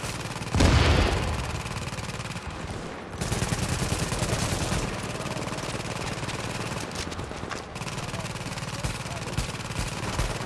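Sustained automatic gunfire from a turret in The Division, a dense rattling barrage running nearly the whole time with a heavy burst near the start and brief dips, loud and close with voices faintly mixed in.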